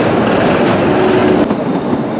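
The Kalka–Shimla toy train running on its mountain railway, a loud close continuous rumble of wheels and carriages with a dense rattling roar and slight fluctuations, no voices.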